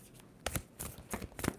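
A deck of tarot cards is shuffled by hand during a reading, giving three or four quick riffling bursts of card-on-card slapping, close and crisp over a quiet background with no speech.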